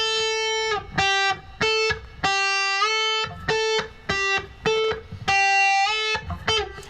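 Dry electric instrument tone through effects gear with delay and reverb switched off, two notes alternating in a choppy rhythm, each cut off sharply, loud and close.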